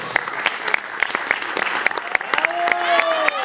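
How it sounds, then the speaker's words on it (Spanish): Audience applause for young singers and teachers at a student vocal gala, busy overlapping claps with sharp individual hand strikes and crowd noise, joined late by a voice or cheer rising above it. "Chicos, este aplauso es para ustedes"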